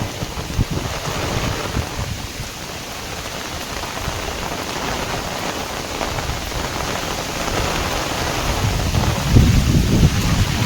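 A heavy downpour falls at Songadh Fort as a loud, dense, unbroken wash of rain, with low rumbling swells underneath and slight build toward the end, with no talking.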